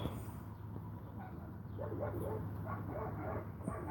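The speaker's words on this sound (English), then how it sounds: "The neighbor's dogs, I guess." Faint, far-off barking and yipping from a neighbor's dogs, scattered over a steady low hum of background noise.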